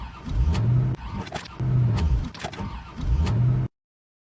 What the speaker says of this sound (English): Looks like we have a problem with the car.